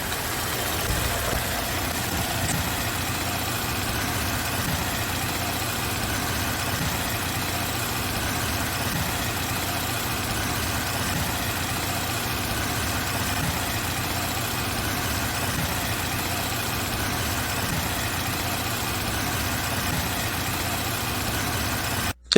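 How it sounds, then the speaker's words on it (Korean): A car engine idles steadily after a spark plug change, with a constant low rumble and faint ticking, running alone without voices for the whole stretch. "이 플러그를 끼우고 난 다음에 엔진 소음을 또 엔진 시동 거르는 상태를 한번"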